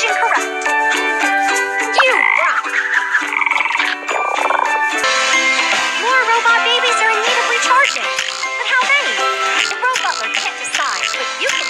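Cartoon frogs in a kids' math puzzle game croak repeatedly in bright, bouncy calls over cheerful game music, close and loud.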